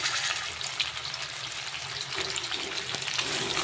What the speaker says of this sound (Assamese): এইফালে এইখিনি মই ভাজিবলৈ আৰম্ভ কৰি দিলোঁ